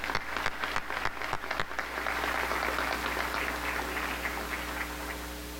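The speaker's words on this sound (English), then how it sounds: "Now you can applaud." An audience at a university welcome convocation applauds, scattered claps at first that swell into a steady, even wash of applause filling a large hall.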